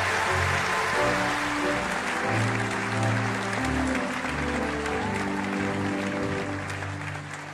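Sustained applause from graduates giving a standing ovation at a Georgetown Law commencement, a dense roar of clapping from a large crowd that stays loud throughout, with voices and cheering mixed in.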